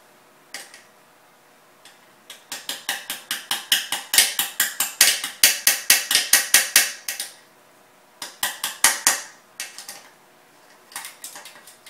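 Screw being driven into the frame of a HobbyKing X930 octocopter drone, a long run of sharp, rapid ratcheting clicks in bursts with brief pauses, close and clear with no talking.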